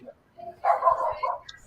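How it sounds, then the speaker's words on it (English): Dog barking in a neighborhood during a live stream, a few loud close barks and yips in a short burst with quieter sounds between. "That dog's trying to tell all the other dogs in the neighborhood"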